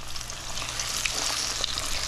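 Steady, dense sizzling of a mullet backbone frying in hot oil, close and continuous with a soft crackle throughout.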